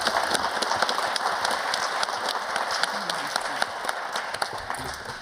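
Audience applause at an educational research conference, a steady wash of many hands clapping with sharp individual claps standing out, fairly close and sustained for the whole stretch before tapering slightly.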